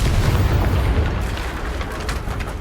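Spell explosion in the video game Hogwarts Legacy, a loud, rumbling boom that fills the moment and slowly fades with crackling debris, no talking.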